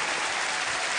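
An audience breaks into applause at a televised errenzhuan talent competition, a dense burst of clapping filling the whole second.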